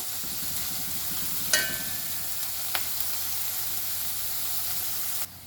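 Masala for a paneer curry fries over a high flame on a small burner, a steady close hiss of sizzling oil with two brief scraping stirs, no voices.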